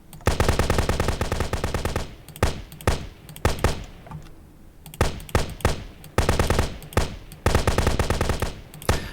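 Video game gunfire as guns are tried out, loud automatic bursts of rapid shots alternating with single heavy shots and short gaps, close and alone.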